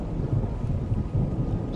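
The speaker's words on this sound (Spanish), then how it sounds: "ya que está lloviendo" Thunder rumbles low and steady under falling rain, a continuous dense roar with no speech.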